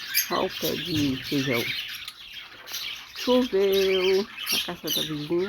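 Pet lovebirds chirp and squawk in a garden after rain, sharp tonal calls and squeaky chatter close by, interleaved with someone talking over them.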